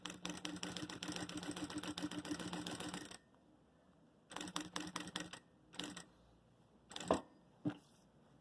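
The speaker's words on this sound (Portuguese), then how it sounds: "Costura meio pé de máquina, só pra dar um detalhezinho." A sewing machine runs in a rapid clattering burst while stitching a makeup case, then stops, followed by a few shorter runs and isolated clicks and knocks nearby.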